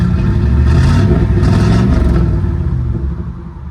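A loud, raw Camaro IROC-Z engine with open headers, barely running, revs hard with a rough, clattering exhaust rumble, then the roar eases off and fades near the end.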